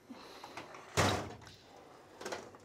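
A drawer on an auto shop tool chest holding metric screws, O-rings and fittings slides open with one loud sweeping rattle and thunk near the start, followed by fainter rustles of handling.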